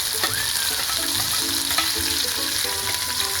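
Garlic frying in a pan, a loud continuous close sizzle with faint scraping from stirring running steadily underneath.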